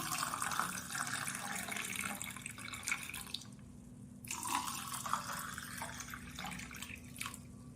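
Lemon sherbet syrup pours into a glass with a steady liquid trickle and splash, pausing briefly midway before resuming, close and fairly quiet.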